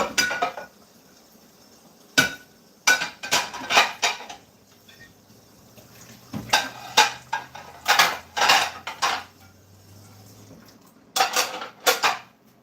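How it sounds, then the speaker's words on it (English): Dishes being scrubbed and washed in a kitchen sink, with repeated clattering clinks of pots, plates and cutlery in bursts separated by quieter running-water stretches, close and fairly loud with no talking. "I'm just scrubbing dishes."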